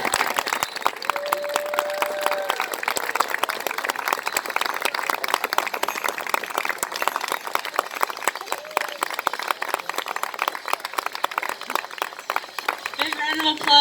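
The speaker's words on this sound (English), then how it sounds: "Let's give them a round of applause," Sustained applause from an audience after a hoop dance and song performance, steady dense clapping with crowd noise throughout, fairly loud and continuous.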